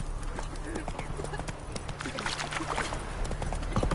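Rapid, rhythmic hoofbeats of a galloping horse in The Witcher 3, steady and fairly close, with busy game sounds layered around them.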